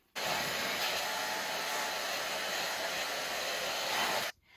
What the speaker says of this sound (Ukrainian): Своє тонке волосся я сушу на рівні 5, не на найгарячішому рівні, щоб не пошкодити.